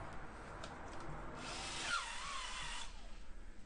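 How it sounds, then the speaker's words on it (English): A power tool scours dust from the brake drum of a Tiger Cub motorcycle, a steady close grinding whir that swells and shifts in pitch midway, with no voices. "Here I'm cleaning up the brake drum"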